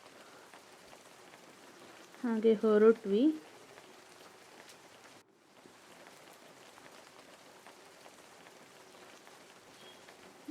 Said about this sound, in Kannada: ಮಳೆ ಕೂಡ ಬರ್ತಾ ಇತ್ತು